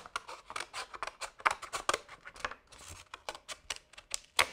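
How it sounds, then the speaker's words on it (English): Scissors snip through a rigid ridged paper plate, a quick irregular series of sharp crisp cuts close up, with no talking. "I'm just going to take my scissors,"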